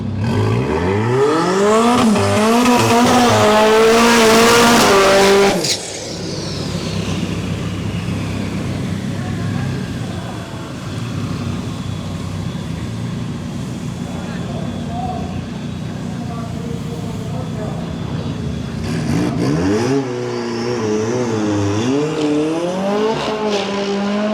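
Two Vauxhall Corsas, one new and one older, launching at a drag strip street event, engines rising through loud gear changes before fading into a distant roar, then another car revving up near the end.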